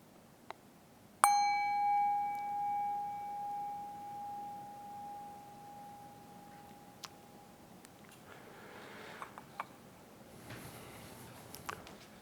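A single bell strike rings out clearly and decays slowly over several seconds in a quiet room, followed by faint soft rustles and taps.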